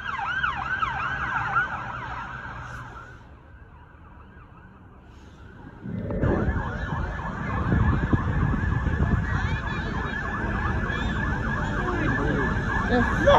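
An EHS ambulance siren in Halifax wails steadily, cutting out briefly in the middle before returning louder alongside rumbling traffic noise.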